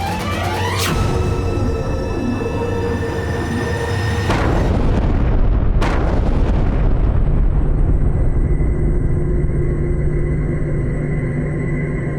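A blast from gunpowder buried in the ground on a battlefield: a loud, deep burst with a sharp onset, then a sustained roaring rumble and a second crack, with dense low noise lingering to the end.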